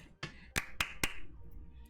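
Hands clap sharply four times in a quick uneven rhythm, crisp and close, over a quiet background.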